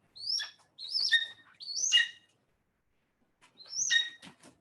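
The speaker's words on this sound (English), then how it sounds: "auger buzzards are really unique birds" An augur buzzard calls in a series of three sharp, descending screeching notes in quick succession, then a pause and a fourth, close and clear against a quiet background.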